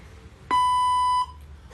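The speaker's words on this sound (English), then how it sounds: "Arjun, please speak in Hindi after the beep, or say exit after the beep." A single electronic beep prompt from a language translator robot, a clean steady tone lasting under a second, sounds over quiet background hiss.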